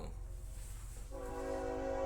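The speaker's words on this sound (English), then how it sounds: "this stupid train, hold on" A passing train sounds its horn: a steady low rumble under a broadband hiss, then a sustained multi-tone horn blast begins partway through and holds, moderately loud, to the end.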